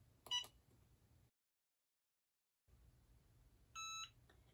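Two short electronic beeps from a heat press timer, one brief and one longer steady tone a few seconds later, with a quiet pause of silence between them.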